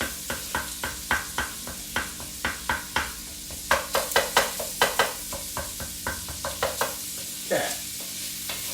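Meat for chili fries in a pan while a utensil stirs and scrapes it in a steady series of close, crisp strokes over a constant sizzle, with a brief spoken word near the end.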